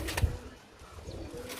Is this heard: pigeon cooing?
yes